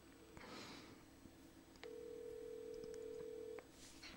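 A telephone call is dialed, with a short tone followed by a steady ringback or dial tone lasting nearly two seconds, faint and clean with no talk over it.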